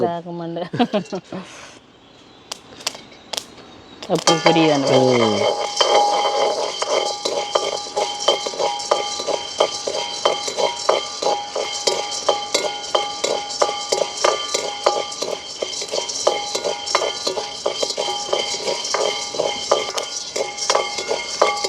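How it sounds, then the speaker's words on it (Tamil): Sorghum grains roast in a pan and begin popping, giving a dense stream of sharp little cracks and rattling clicks that carries on steadily throughout, after some brief background sounds at the start. "சோழன் அப்படியே நல்லா வறுபட்டு எங்களுக்கு பொரிய தொடங்கிட்டுது"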